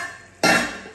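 A lid lifted off a cooking pot during a meatball, tomato and mushroom dish: a single sharp metallic clank after quiet, then a brief fading ring and hiss.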